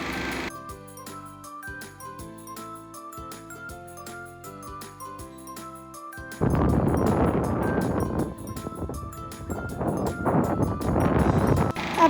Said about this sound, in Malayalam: പിന്നെ ഇവിടെ നല്ല കാറ്റും ഉണ്ട് കേട്ടോ